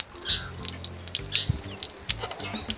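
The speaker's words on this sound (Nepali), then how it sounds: "यो चाहिँ पानी त्यतिकै खेर गइरहेको रहेछ" Water flowing to waste from a drinking-water source along a jungle path in Amalachaur, a soft close trickle and splashing with small drips, faint and continuous, with a bird chirping lightly in the background.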